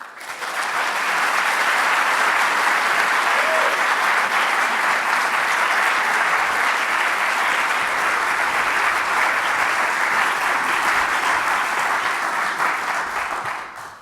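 A lecture audience breaks into sustained, even applause that swells quickly, holds at a steady roar of many hands and fades slightly at the end.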